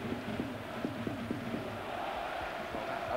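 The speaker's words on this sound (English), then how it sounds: "what noise there is at the moment inside Ewood Park is coming from those who travelled up from London" Away supporters of Arsenal make noise inside Ewood Park during a Blackburn Rovers match, a faint crowd roar with rhythmic clapping or chanting pulses early on, heard from a distance.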